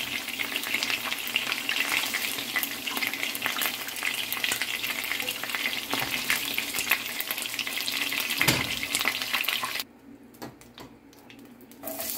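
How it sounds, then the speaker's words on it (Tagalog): Garlic and onion sautéing for chicken pochero, a dense, loud, continuous sizzle with stirring scrapes, which suddenly drops to a faint hiss near the end. "Gigisa tayo ngayon ng bawang at saka sibuyas."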